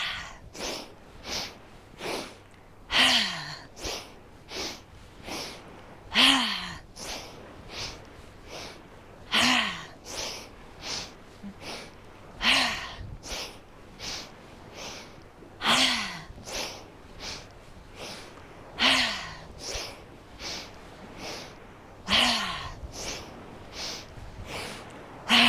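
Deep yoga breathing at close range: slow, rhythmic cycles of audible inhales and forceful exhales repeat every few seconds, with no speech.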